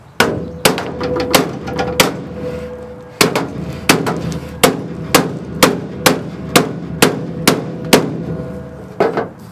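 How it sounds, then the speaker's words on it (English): A hammer drives a wooden block against the floor pan of a Ford F100 during welding work, landing about a dozen loud, sharp strikes in a steady rhythm, close up, with two short pauses between bursts. "Instead of just beating it with a hammer and denting everything up, I'm gonna use a block of wood and see if that works"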